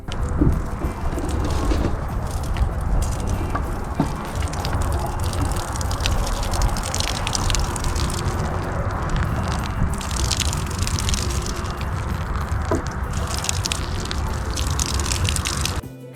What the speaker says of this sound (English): Finally, water thoroughly to ensure the necessary moisture.